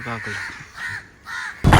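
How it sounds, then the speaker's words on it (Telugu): Several crows caw in a run of harsh, repeated calls outside a residency near a temple on the road to Dhanushkodi, with a louder burst of noise at the end. "ఫుల్ ఉన్నాయి ఇక్కడ కాకులు."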